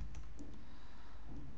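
Someone types a command on a computer keyboard to change directory while installing the Google Play Store on an Android 7 emulator; a brief run of close, soft key clicks plays alone over a steady low hum.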